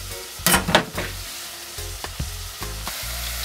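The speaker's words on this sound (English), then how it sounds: "now we're going to whisk our eggs up and add this to it" Eggs whisked in a bowl for a spinach and chicken hot dog quiche, giving a burst of quick scraping strokes near the start, then scattered clinks and taps over low kitchen hum, close by, no talk.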